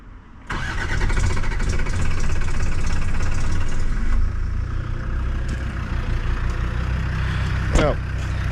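A used car's engine cranks and catches, then settles into a steady, loud idle that drops to a lower rumble partway through, with a voice speaking over it.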